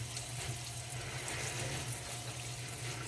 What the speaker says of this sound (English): You want to make sure you rinse really thoroughly.